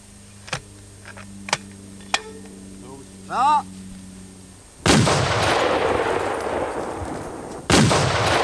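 A weapon fired at an enemy tank during Danish Royal Life Guards military training in 1986, with a loud blast followed by a long rumbling decay and a second blast near the end, preceded by clicks and a spoken command.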